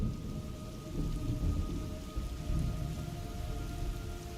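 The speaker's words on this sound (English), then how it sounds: "It's raining blood." Steady downpour and rumbling thunder from a stormy scene in the video game Metal Gear Solid Delta: Snake Eater, a continuous dense wash of rain with low rolling booms, fairly loud and with no voices.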